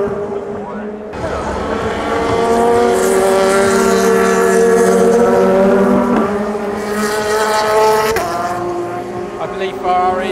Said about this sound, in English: we're 7 hours in at Le Mans, and now we're night racing